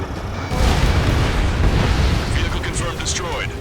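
A missile strike destroying a ground vehicle in Ace Combat 7: Skies Unknown brings a heavy, sustained explosive roar that swells suddenly and rumbles on, with crackling debris and faint radio chatter toward the end.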